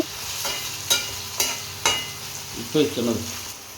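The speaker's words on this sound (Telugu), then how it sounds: "మిర్చి వేసి బాగా కలపండి" Green chillies are stirred into onions frying for an Andhra-style fish curry, with a steady sizzle under several sharp scrapes of a spoon against the pan, close and without talking.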